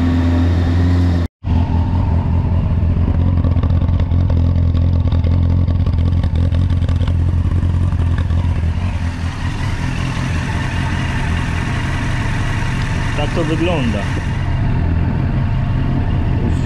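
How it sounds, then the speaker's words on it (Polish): A Yamaha FZS 1000 Fazer motorcycle with carburetors idles steadily while it warms up, a loud, continuous low engine rumble with a brief dropout near the start. A short spoken remark comes in near the end. "Już silnik prawie że rozgrzany."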